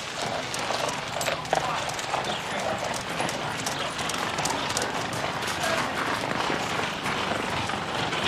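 Horse hooves clip-clop along a road in a Sherlock Holmes period drama, a steady rhythmic trotting beat under a noisy background with talk.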